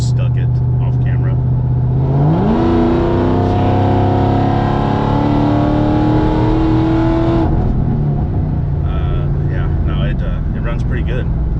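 A 650 hp Cadillac CTS-V engine, loud and close, rises from idle into a sustained high rev, holds it for several seconds, then drops back to a rumbling idle.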